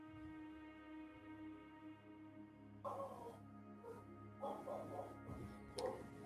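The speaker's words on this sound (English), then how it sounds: "Thank you, dogs." Dogs barking in a tabletop game session, several short sharp barks in the second half over a steady droning tonal background, moderately close.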